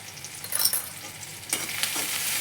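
Garam masala, chilli powder and turmeric sizzle with tomatoes in a hot pan, stirred a couple of times with scraping strokes over a continuous close frying crackle.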